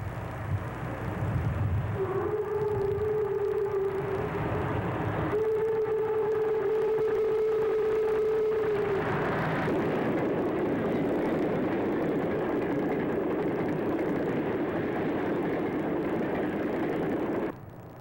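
Virginian Railroad AG locomotive number 907 working a westbound extra train near Kilby, a loud, continuous rumbling roar with a sustained horn-like tone early on, heavy and close throughout.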